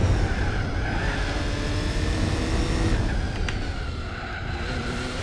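Gran Turismo 4 race car engine roars at high revs, then eases off under heavy braking, the pitch sliding down before a short sharp transient as the car slows through a corner.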